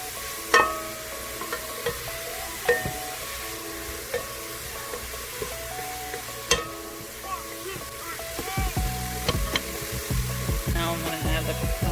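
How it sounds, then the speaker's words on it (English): Vegetables sauté in a pot for cheddar broccoli soup, a low steady sizzle with occasional utensil taps and stirring scrapes that grow busier and louder toward the end. "we're going to go ahead and let that saute"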